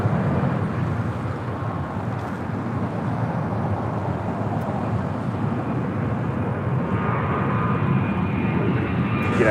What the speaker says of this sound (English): Alaska Airlines Flight 1412 heading in Liberia, 737-800. Next takeoff here on the south side.